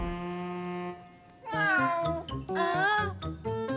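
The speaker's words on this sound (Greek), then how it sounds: "ήταν η γάτα της Μπουμπούς" A cat meows several times in quick succession, close and clear, the cries rising and falling in pitch.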